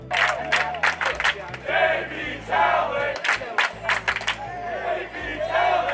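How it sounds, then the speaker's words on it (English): A student section at a Smithson Valley high school baseball game chants a rhythmic cheer together, loud and close, rising and falling in bursts of shouted voices with a steady beat running underneath. "they came up with this cheer."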